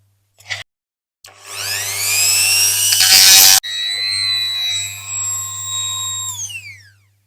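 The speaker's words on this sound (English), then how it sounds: "So I'll get the multi-tool back on that." A rotary multi-tool whines up to a high, steady spin and grinds against a diecast Dinky Toys Mercedes-Benz 220SE, the pitch dipping under load, cutting off, then spinning again before winding down; a short burst precedes it, with low electrical hum throughout.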